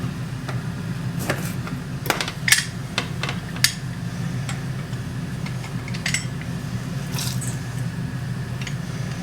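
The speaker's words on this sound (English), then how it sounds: "We're just going to mix this together." A spoon clinks and scrapes against a bowl while fish taco sauce with paprika, garlic powder and lime juice is mixed. Scattered sharp taps sound over a soft, wet stirring and a low room hum.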